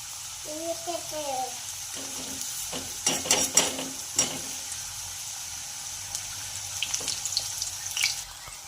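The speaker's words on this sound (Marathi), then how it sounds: "मीडियम गॅसवर आपण ह्या एक एक एक कशा फ्राय करून घेऊया" Mung dal and wheat flour matri fry on medium gas, a soft sizzle running under intermittent stirring and scraping clatter, louder in short bursts midway.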